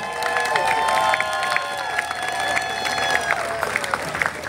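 Audience applause at a 90's party concert in Žiar nad Hronom, with a dense, steady patter of clapping from a crowd, heard fairly close, while sustained tonal music notes ring over it.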